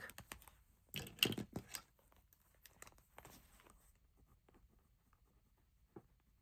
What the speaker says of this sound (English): all I'm writing here